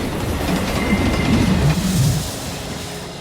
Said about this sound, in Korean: 이틀에 걸쳐 도착한 그 기차요.